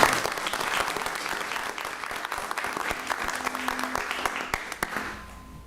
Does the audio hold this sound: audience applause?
yes